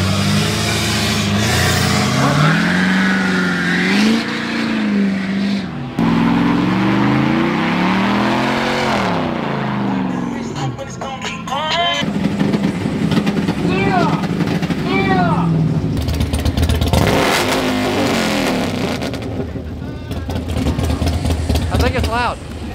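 A car revs its engine hard while doing a burnout at a hot rod car show, a loud, sustained roar rising and falling in pitch, with a crowd shouting and talking over it throughout.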